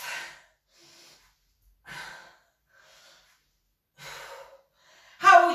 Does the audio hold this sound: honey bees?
no